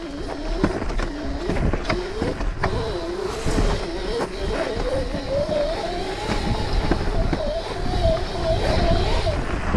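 Razor MX650 electric dirt bike running at 76V and accelerating along a rough desert trail at Joshua Tree, its motor whine rising and shifting in pitch beneath steady wind and trail noise, close and continuous.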